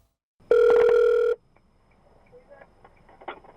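A telephone rings once in a single sustained burst on a recorded call to the 112 emergency line, followed by near silence with faint, scattered line noise.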